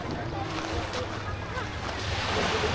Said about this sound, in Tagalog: kalma dito ng dagat